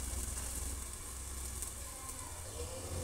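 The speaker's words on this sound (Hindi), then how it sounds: "इसको हम ढक के पकाएंगे 2 मिनट।" Vegetables cook covered in a pan, giving a steady, even sizzle with faint crackles throughout, muffled and moderately quiet with no talking.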